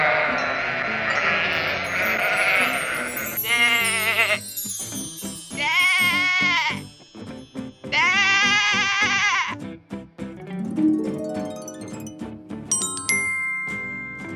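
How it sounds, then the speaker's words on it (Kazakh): Sheep bleat several times in a row, loud, close and wavering cries separated by short gaps, with light tinkling music in the background. "Қой."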